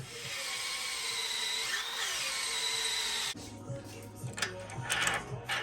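A power drill with a tapered bit whines steadily for about three seconds, its pitch shifting slightly as it bites, then cuts off, leaving quieter clicks and handling noise.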